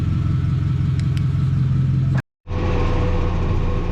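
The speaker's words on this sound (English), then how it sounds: "Back in the red tractor." The steady, loud drone of a 4840 tractor engine pulling a 30-foot disc across soybean ground, a constant rumble that cuts out briefly before resuming at full volume.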